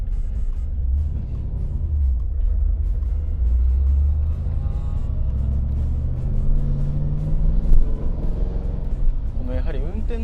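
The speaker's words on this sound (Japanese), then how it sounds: "私なんて本当に生まれて初めてマセラティカムシに乗りますが、もうこのねたったの10分足らずで意外にも普通に運転できている" A Maserati Khamsin rumbles along the road from inside the cabin, its low engine drone steady and close beneath continuous conversation between occupants.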